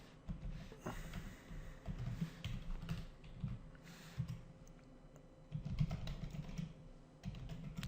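Code being typed on a computer keyboard during a JavaScript lesson: quiet, close, irregular bursts of key clicks and clacks, with no talk over them.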